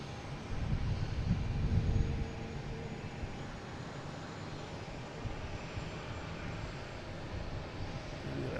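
An American Airlines Embraer E175 jet lands at Boston Logan, its engine roar loudest early and then settling into a steady, moderately distant drone.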